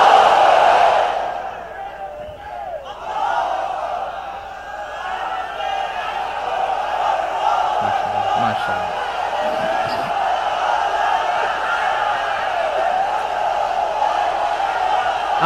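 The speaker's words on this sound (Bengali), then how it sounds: "তাকবীর পড়ুন, লিল্লাহি তাকবীর।" A large crowd at an outdoor religious rally on a parade ground in Chittagong roars a takbir chant, a sustained massed shout that holds steady for the full stretch with no single voice standing out.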